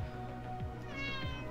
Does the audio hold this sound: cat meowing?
yes